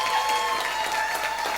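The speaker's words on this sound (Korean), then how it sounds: "박수라도 크게 쳐주세요." Steady, dense applause from a church congregation during a Sunday afternoon worship service, filling the space evenly with no break and no voice over it.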